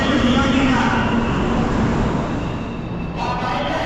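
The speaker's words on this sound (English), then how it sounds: "And we got another kind of like Soviet looking train." A train rumbles at a station in China on the Shanghai to Suzhou line, a continuous broadband roar that eases slightly toward the end while a person talks.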